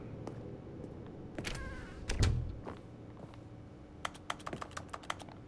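Keyboard typing in The Stanley Parable: Ultra Deluxe, with quick scattered clacks of keys arriving in a burst near the end, preceded by a brief louder thump and low background hum.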